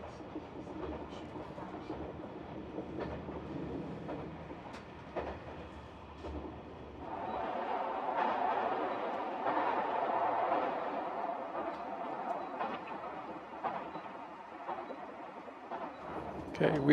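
Ride inside a brand new Yakumo train in Japan, a steady rumbling cabin hum with faint rail clatter that swells louder midway, continuous and enclosed, with some talk mixed in.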